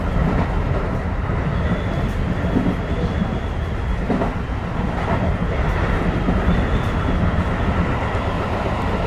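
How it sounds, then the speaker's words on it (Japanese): A local commuter train on the Urban Park Line heading to Funabashi runs steadily, a loud continuous rumble of wheels and motors heard from the front of the train, without pauses. "この電車は各駅停車船橋行きです。"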